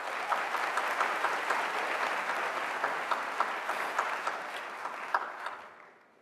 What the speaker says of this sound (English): we applaud you all